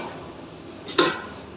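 A beer keg tap flipped up: one short metallic clack near the end, close and fairly sharp, against a quiet background hiss.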